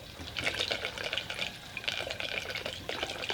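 Water draining out of the water tray of a plasma cutting table, a splashy, gurgling flow with irregular surges, heard up close and alone.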